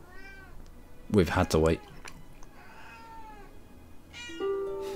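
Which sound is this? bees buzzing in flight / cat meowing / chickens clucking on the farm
cat meowing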